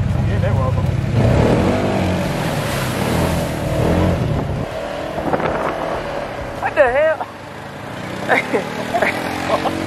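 An ATV engine rumbles and drones during a tour at a five-star resort, with wind buffeting the microphone, while people talk and shout over it throughout.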